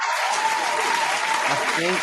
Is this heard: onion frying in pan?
no